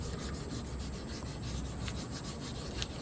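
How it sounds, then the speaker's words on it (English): Steady, even rubbing of 240-grit sandpaper over turned cedar feet finished in shellac, a close continuous scratchy hiss with faint rhythmic strokes and no talk. "some 240 grit will just smooth out these turn feet"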